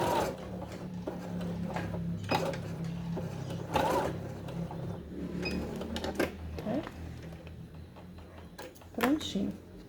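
A sewing machine topstitching a cushion cover runs in short, quiet stitching bursts with clicks and fabric handling, while a voice speaks throughout.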